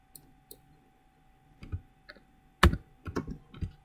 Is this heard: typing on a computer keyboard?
yes